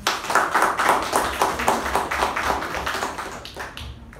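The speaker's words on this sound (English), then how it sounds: "please give a big round of applause for Toastmaster Jyothi" Small meeting audience at a Toastmasters club applauding, uneven bursts of close hand claps that rise and fall in loudness and taper away near the end.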